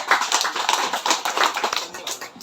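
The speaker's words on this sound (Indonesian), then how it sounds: "Kita berikan tepuk tangan untuk panitia dulu" Applause from an audience at a technical meeting for a traditional boat race tournament, dense close clapping filling the whole moment at a steady loud level.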